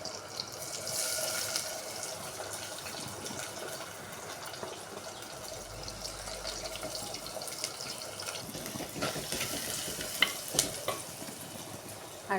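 Onions frying with garlic in a pan for a village-style fish curry, a steady close sizzle with scraping stirs and some watery splashing, no voices.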